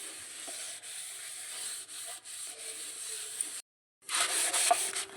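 An old bronze plate scrubbed clean by hand, giving a steady abrasive rubbing with rhythmic strokes, a short pause, then vigorous scrubbing again, close and alone.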